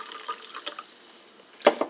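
Bubly Raspberry carbonated water is poured into a cup in a light, uneven trickle with soft fizzing splashes, ending in a couple of louder gurgles.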